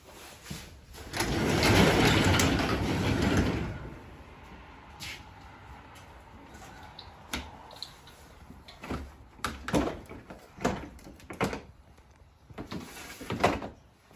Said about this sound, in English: I'm gonna open up my garage.